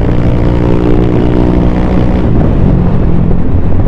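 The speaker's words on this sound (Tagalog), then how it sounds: "Gusto ko lang is medyo magkatunog yung ating tambutso para hindi naman nakakainip sa biyahe natin." A Honda Click 125 scooter fitted with a Replica Pro aftermarket exhaust gives a loud, steady, close-up engine drone with a deep, throaty exhaust note that holds throughout.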